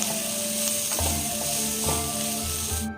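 Vegetables for homemade chow fry in a pan over a lowered gas flame, giving a steady close sizzle that runs throughout, with soft low knocks and clatter of stirring underneath.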